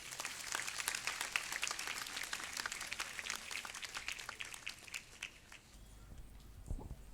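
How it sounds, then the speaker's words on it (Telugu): A crowd at a church festival applauds with a scattered, lively clapping that is fairly faint and distant, thinning out toward the end. "క్లాప్స్ కొట్టండి"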